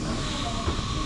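A train at a local station in Kyoto, Japan gives off a brief, steady rumble and hiss of rolling rail cars, close and continuous throughout.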